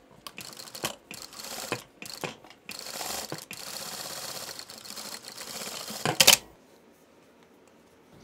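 Stitching a quarter-inch seam on a sewing machine, with locking stitches at each end: short bursts of machine whirring broken by brief pauses, then a longer steady run ending in a sharp clack before quiet.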